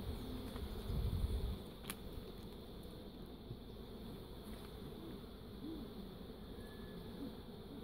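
Carnica honey bees fly around an open hive on a cool day of about 15 degrees, making a steady, fairly faint hum with a faint drone throughout.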